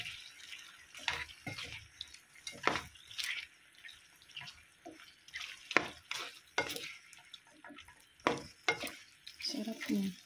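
Chicken feet cooking in a pan are stirred, giving irregular scraping and clinking strokes over a soft sizzle and drips, moderately close with no talking.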